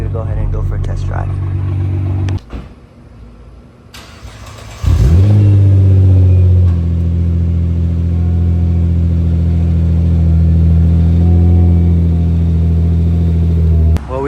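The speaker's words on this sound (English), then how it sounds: "we're gonna go ahead and go for a test drive" A Nissan GT-R on a test drive, its engine revving hard and then settling into a loud, steady drone from inside the car, with a brief dip in sound partway through.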